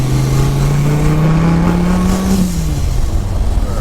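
A boosted 1,200-horsepower Dodge Viper accelerates hard on a freeway in Mexico, its loud, close engine droning and climbing steadily in pitch, then easing off briefly as the tone drops.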